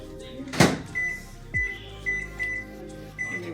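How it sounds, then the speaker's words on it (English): A microwave oven runs with a food steamer inside, a door thump followed by the low steady hum of the oven and a series of short beeps from its keypad. "put it right in my microwave."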